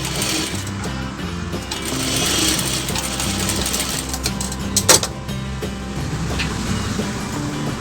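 A sewing machine runs steadily, stitching blouse fabric for a princess-cut blouse, with a continuous mechanical whir and rhythmic low chugging; a brief louder clack stands out midway.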